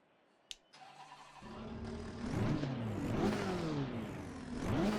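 A GT4-class race car engine in the Assetto Corsa Competizione sim game fires up after a brief click, then revs repeatedly in rising and falling sweeps, loud and close, with no voices.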